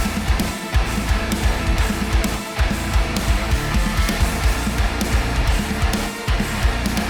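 Loud, chugging electric guitar riffs with heavy distortion, palm-muted rhythms and brief pauses, played continuously without any voices.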